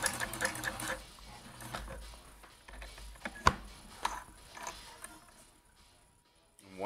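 Vintage Janome Combi DX 502 sewing machine running its basic stitches, a steady mechanical whir with rattling needle-and-gear clicks in short bursts, close and moderately loud, stopping briefly near the end with no talk.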